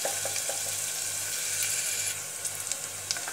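Onions fry quietly in a pan for Indian-style masala macaroni, a soft, steady sizzle with a few faint clicks and stirring sounds, close but low in level.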